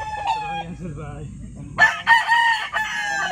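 Roosters of a red-feathered fighting bloodline crow nearby: a few soft clucks at first, then a loud, drawn-out crow with a second call breaking in near the end, while someone speaks briefly.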